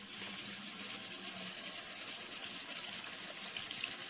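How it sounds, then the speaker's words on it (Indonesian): Water runs from a kitchen sink tap, a faint, steady hiss of flow heard alone at low level for several seconds. "dia dengar ada suara keran yang menyala dari wastafel dapur tempat nyuci piring"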